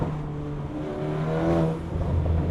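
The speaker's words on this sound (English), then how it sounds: "And the turbo flutter." A car engine revs and whirs steadily, with a fluttering turbo sound as the throttle lifts, heard close up without any talk.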